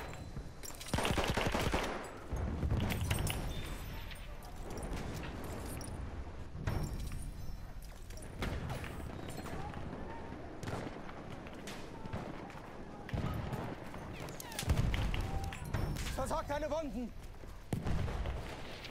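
Battlefield 1 gunfire with a sniper ahead, heard as repeated sharp shots and bursts amid loud chaotic battlefield noise, with someone talking over parts of it.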